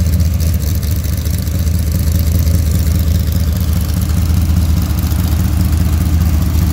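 A Pontiac V8 with a Comp Cams hydraulic roller cam and automatic flex plate running loud and close, a steady deep engine roar with a rough, lumpy pulse holding at high load throughout.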